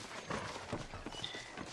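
Horses pull a wagon in Red Dead Redemption, their hooves sounding a dense, continuous clip-clop, with rolling rumble and road noise throughout.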